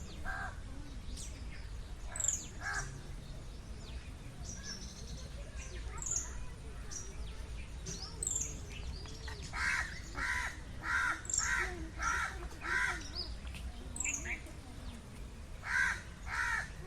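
Crows caw repeatedly at Vellode bird sanctuary, harsh calls in short bursts of several at a time over a quiet outdoor background, with thin chirps of other birds scattered through.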